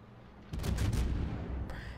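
A big naval gun salvo from the USS Salem in World of Warships, a deep booming blast that hits suddenly and rumbles on loud and heavy, with a second sharper crack near the end.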